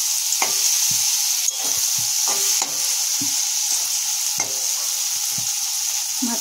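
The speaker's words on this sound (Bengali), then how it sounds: "এই তেল দিয়ে মাছের তেল দিয়ে বেগুন ভাজা" Eggplant fries in fish oil with a loud, continuous hiss of sizzling, broken by intermittent clatters and scrapes of stirring in the pan.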